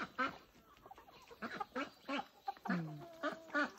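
Farmyard chickens squawking and clucking while being fed, a series of close, sharp cackles and squawks in bursts with short gaps, fairly loud against quiet surroundings.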